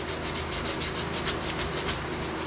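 Steady, close rasping strokes of 80 grit sandpaper roughing up the hull surface of a Hobie 16 catamaran, an even back-and-forth scratching rhythm throughout with no voices.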